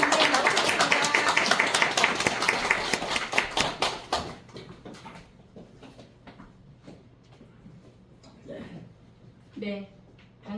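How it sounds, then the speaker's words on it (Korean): A seminar audience gives a big round of applause at the 2024 Incheon Nanum Center event, loud dense clapping for about four seconds that breaks off into a few scattered claps, followed by faint talk. "우리 큰 박수 부탁드립니다."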